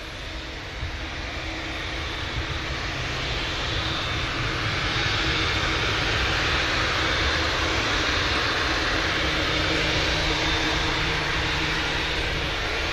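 A heavy Boeing 787 Dreamliner departs Manchester Airport. Its engines give a broad, steady roar that swells slightly as the jet climbs, with no voices over it.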